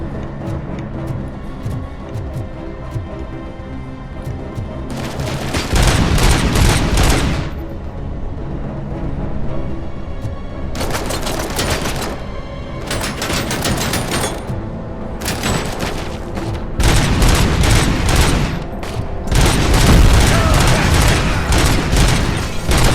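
Pistol gunfire in the video game RoboCop: Rogue City, rapid bursts of loud close shots in several clusters with brief pauses between, over a steady background of game ambience.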